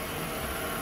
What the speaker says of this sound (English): You can see that the idle is very smooth.